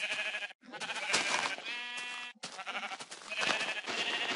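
Minecraft sheep bleat repeatedly in a loud, wavering chorus, one long quavering cry standing out in the middle.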